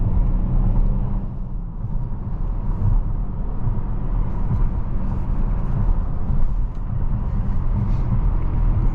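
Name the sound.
Mercedes-Benz GLC300 turbocharged four-cylinder engine while driving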